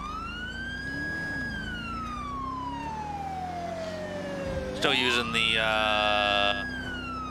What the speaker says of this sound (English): Touchmaster Delta siren